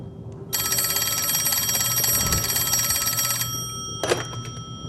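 A telephone bell rings loud and steady for about three seconds in a Peaky Blinders scene, then stops, followed by a brief clunk like a receiver being lifted.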